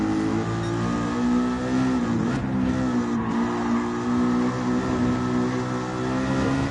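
Race car engine in a racing video game revving at a steady high pitch, the loose car's motor droning loudly and continuously with slight pitch shifts, close and alone.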